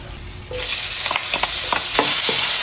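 Chopped garlic, five cloves, drops into about two tablespoons of oil and bursts into a loud, bright sizzle, with repeated stirring scrapes over the steady frying.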